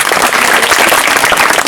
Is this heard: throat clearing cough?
no